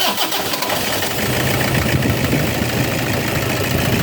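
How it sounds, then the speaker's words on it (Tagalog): A Toyota Hilux engine with a misfiring injector and low power runs close by, a loud, rough, steady mechanical drone that carries on without pause. "may pumalya na injector nito"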